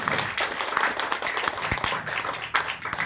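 Applause at a community AOP event in Peravoor, a steady close crackle of many hands clapping that swells slightly and holds for about three seconds without pause.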